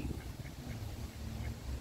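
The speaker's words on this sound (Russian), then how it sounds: "Кря-кря-кря говорят." Ducks quack in short, repeated calls on a park pond, heard at moderate distance against steady outdoor background noise.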